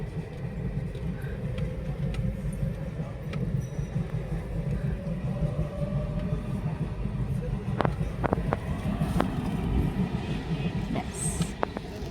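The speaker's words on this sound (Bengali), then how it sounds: "সবাই আমরা ওয়েট করছি, ট্রেনটা ক্রস করে গেলে রাস্তাটা খুলবে," A train passes a closed level crossing with a steady, broad rumble of wheels and rolling stock throughout, heard from near the road, with scattered sharp clicks and knocks toward the end.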